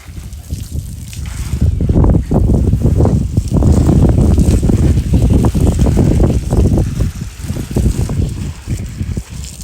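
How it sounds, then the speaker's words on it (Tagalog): Strong, cold gusting wind buffets the microphone, a rough, roaring rumble that swells and drops in irregular bursts throughout. "Kaso nga lang, mahangin at ang lamig ng hangin."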